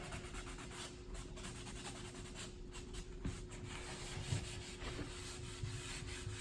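Stain being rubbed by hand into new wood that is being distressed for a reclaimed look, a steady, soft, close scraping rub that continues throughout without talk.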